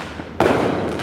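Fireworks go off outdoors somewhere behind the person talking, sounding as a sudden loud burst followed by a sustained crackling rumble.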